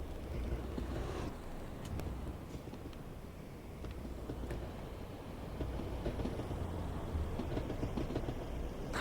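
An MBTA commuter train in a train simulator game rumbles steadily past for the whole stretch, a continuous low roar with faint rail clatter and a few sharp ticks, with no talk over it.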